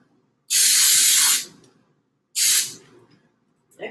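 Cooking spray is sprayed into Egglettes silicone egg cups in two loud, close hissing bursts, the first about a second long and the second shorter, with a faint clatter at the end.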